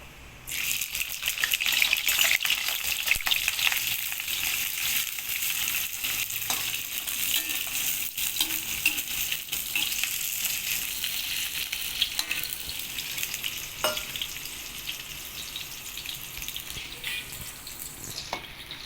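Onions fry in oil in a pan for biryani, hissing and sizzling steadily and densely throughout, with a few faint stirring rattles and no voices.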